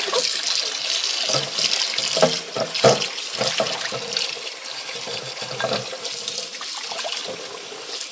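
Warm tap water runs steadily from a faucet into a kitchen sink while dishes are rinsed, a continuous close splashing rush with a few brief clinks and knocks and no talking.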